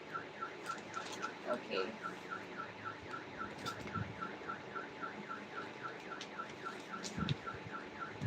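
A neighbourhood car alarm wails in a fast, steady cycling siren pattern, moderately distant and continuous, with faint background noise and a brief spoken word.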